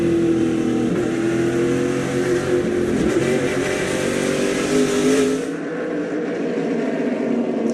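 Several race cars circle the Berlin dirt oval in an SRX event, engines held at a steady, gentle throttle in a continuous loud drone that rises slightly as they pass, then drops away abruptly near the end.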